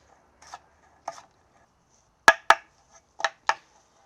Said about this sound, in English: And slice. Nice thin slices.